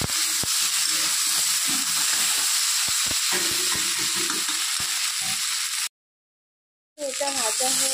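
Food frying in a pan with salt and turmeric, a steady close sizzle with scattered stirring clicks; the sound cuts out briefly near the end, then resumes with a voice speaking over it.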